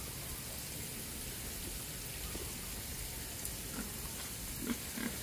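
Soft grunts from pigs come through intermittently over a quiet, hissing rain-like background, faint and a little distant.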